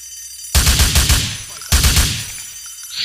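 Two loud bursts of rapid gunfire in GTA IV, each a quick rattling volley that rings out and decays, separated by a short pause.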